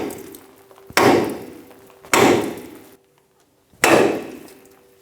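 A hammer strikes the upper ball joint of a 2000-2006 Toyota Tundra three times to shock it loose from its stud, each loud metallic impact ringing off sharply, with a short silent gap before the last.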